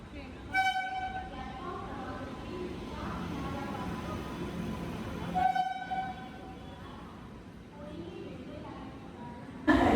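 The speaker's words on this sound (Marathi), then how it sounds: "ट्रेन आली, ट्रेन." A train pulls into a station and sounds its horn in two long blasts, the first near the start and the second midway, over a continuous rumble and the hubbub of people talking on the platform.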